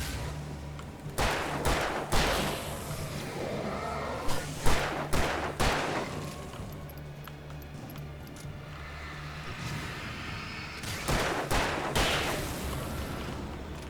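Hip-fire gunshots in Alan Wake Remastered ring out in sharp clusters of several loud cracks, then a quieter stretch with a faint high whine before another burst of shots near the end, no voices.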